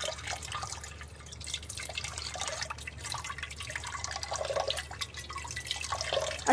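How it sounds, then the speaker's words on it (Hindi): Tap water runs steadily over sago pearls being rinsed in a kitchen, a continuous close splashing and dripping that keeps going for several seconds without talk. "देर तक पानी ज़रा बहा दें कि इसमें से स्टार्च बिल्कुल से निकल जाए"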